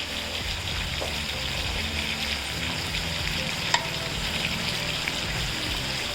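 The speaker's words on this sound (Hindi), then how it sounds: "ये मैं आलू इसमें ऐड कर रही हूँ। मैंने आलू ऐड कर दिए। आलू भी हम थोड़े से इसको पकाएंगे थोड़े से।" Potatoes frying in a pan give a steady, close sizzle that runs unbroken throughout, with faint stirring and one brief sharp tap near the middle.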